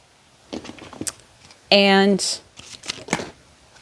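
A deck of tarot cards gets shuffled by hand, with a loud riffling burst of rapid flutter and several softer rustles and taps before and after it, close by with no one speaking.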